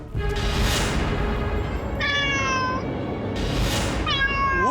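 A cat meows twice in a Hindi mythology TV serial, each a clear rising-and-falling cry, heard over a steady dense background bed.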